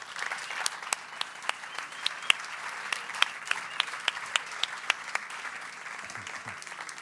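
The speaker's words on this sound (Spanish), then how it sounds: "Un aplauso para Miquel Pagadi-Bouls." An audience at a symposium in Donostia applauds to welcome a speaker, a steady wash of clapping with sharp individual claps standing out, and a brief low voice near the end.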